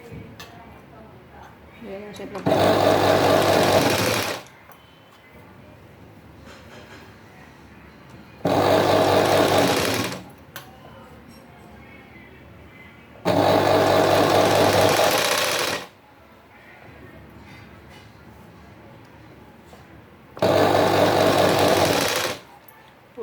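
A sewing machine stitches the neckline of a blouse in four loud, steady bursts of about two seconds each, separated by quieter pauses with faint handling noise.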